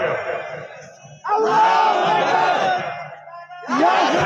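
A crowd answers a religious chant in loud unison shouts, two sustained roaring bursts of many voices separated by a brief lull, close and full, with a lone voice leading between them.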